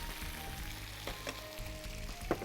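Olive oil sizzles softly in a pan while pasta is made, giving a faint steady crackle with a few small pops and light clinks of a utensil, and no talking.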